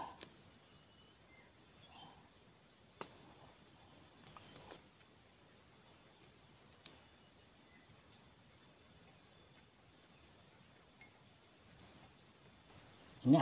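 Jumbo crickets set as live bait in a bird trap in a rocky forest passage chirp steadily in a continuous high trill, close and alone, with a few faint clicks and knocks.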